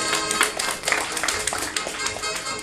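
Audience applause for Frimousse, a performing dog in a circus ring show: scattered, uneven hand claps from a crowd, fairly close and lively, with a voice speaking over them.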